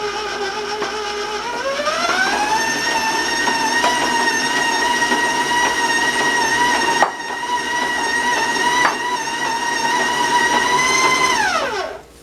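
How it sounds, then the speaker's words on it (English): A stand mixer creaming cake batter whirs steadily, its motor pitch climbing as it speeds up, then running high and loud before winding down at the end. "So I'm going to just put a little at a time and start creaming it together."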